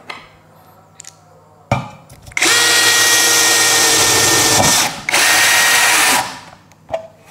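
The DOLIZ BD636 12v brushless cordless drill runs at speed 1 in two sustained, loud, high whirring bursts of a few seconds each, close up, with handling clicks before and after.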